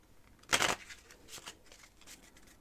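Playing cards for a game of Piquet are shuffled in one quick, crisp riffle up close, followed by a few faint, soft card handling sounds in a quiet room.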